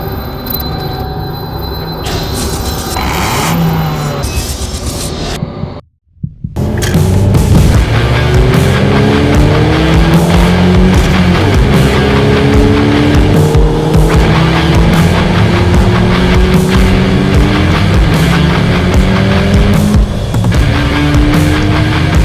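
A Mazda 3 hatchback pushed hard through corners, its engine roaring loud and close as revs climb in repeated rising sweeps, with tires squealing and a brief sudden dropout partway before the strained acceleration resumes.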